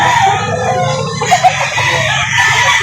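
Chickens at a poultry market in Lipa City, Batangas cluck and crow close by, loud and continuous over a busy background.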